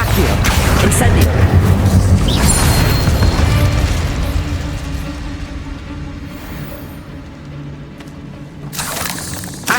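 Confringo spell blasts burst and boom in Hogwarts Legacy, loud fiery explosions with watery crackle tailing off over several seconds before a final sharp pop, one more blast at the end.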